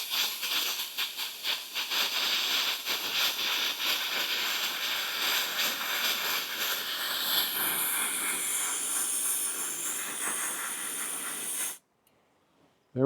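Propane hisses steadily while a Mr. Heater Fuel Keg cylinder is refilled, a loud continuous rush that shifts slightly in tone before cutting off abruptly near the end.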